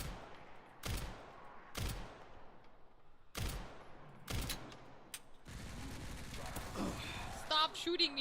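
Gunfire in Resident Evil Requiem: several loud, sharp shots spaced about a second apart, followed by a denser stretch of rapid fire and clatter, with in-game effects mixed in.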